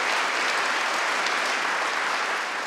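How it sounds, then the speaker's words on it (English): An audience at an evening talk applauds in honour of Secretary Madeleine Albright, a thick, continuous wall of clapping heard close and loud throughout. "please give Madeleine a round of applause"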